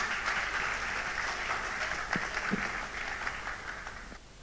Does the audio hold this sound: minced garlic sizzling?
no